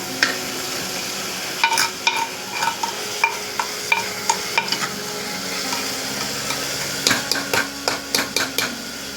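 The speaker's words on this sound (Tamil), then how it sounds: "தக்காளி நல்லா வதங்கட்டும்" Tomatoes sautéing for fish curry in a clay pot, a soft background sizzle punctuated by repeated sharp ladle taps and scrapes against the pot, close and steady with no talking.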